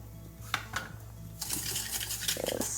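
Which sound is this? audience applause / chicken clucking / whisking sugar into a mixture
whisking sugar into a mixture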